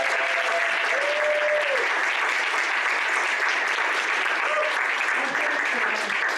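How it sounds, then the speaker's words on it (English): Sustained audience applause fills an evening Q&A with a film director, a dense, even wash of many hands clapping at steady volume from start to finish. "Again, please applaud."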